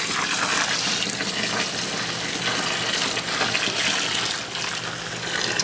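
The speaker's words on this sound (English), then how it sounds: "in we go with our sparge water" Sparge water at 170 degrees pours steadily into a home-brewing vessel for an IPA, a continuous close rushing splash with no talk.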